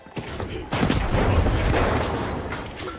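A Model 1887 lever-action shotgun fires in a video game, one heavy booming blast with a long rumbling tail, loud and close, following a short softer noise at the start.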